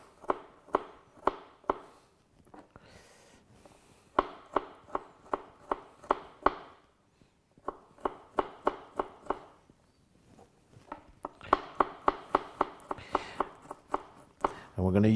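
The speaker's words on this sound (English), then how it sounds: "What we're going to do now is we're going to slice the garlic." A knife slices through garlic cloves on a cutting board in bursts of quick, crisp, close chops separated by short pauses, with no talking.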